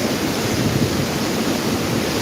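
Strong typhoon wind during Typhoon Uwan in Camarines Sur, Bicol, under signal no. 5, roars as a steady, loud, broadband rush that keeps building, with no voices.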